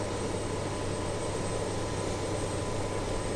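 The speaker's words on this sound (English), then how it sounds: "our APU is firing up very," The auxiliary power unit of a BAe146 airliner runs up with a steady, loud, droning whine and a constant tonal hum, holding even throughout.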